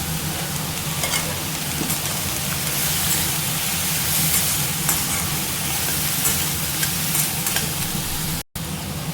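Vegetables with a little tamarind and rock salt sautéing in a pan for banana stem chutney, a steady near sizzle with stirring scrapes throughout, alone with no talk.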